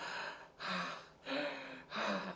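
Slow, deep belly breaths during a Breath of Fire breathwork workshop, three long airy inhales and exhales in steady rhythm, close and soft with no talking.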